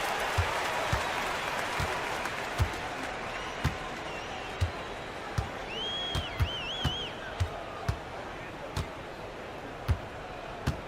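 Home crowd applauding and cheering in a basketball video game, a steady wash of clapping with sharp ball bounces and squeaks cutting through at regular intervals and a commentator talking over it.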